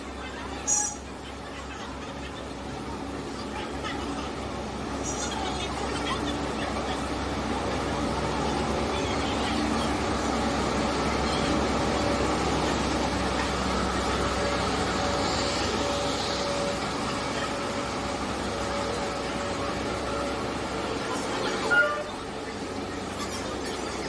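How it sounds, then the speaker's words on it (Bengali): A train pulls into a railway station with a sustained rumble that swells and fades over time, a brief metallic squeal near the end, and background crowd chatter. "ট্রেন তো ঢুকে গেছে, দেখেই নিলে।"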